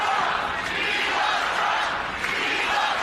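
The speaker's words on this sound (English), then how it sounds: "Viva Trump, they're saying now." Large crowd chanting and cheering as a figure is welcomed back, a dense steady roar of many voices sustained throughout.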